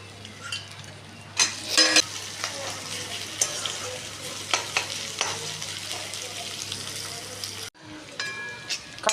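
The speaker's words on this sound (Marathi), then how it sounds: "तर यात आपण कांदा घालून घेऊया आणि कांदा पण गुलाबी रंगावर भाजून घेऊया." Chopped onion frying in a hot pan for a mutton rassa curry, with a steady sizzle, bursts of stirring and scraping, and a brief pause near the end before the frying resumes.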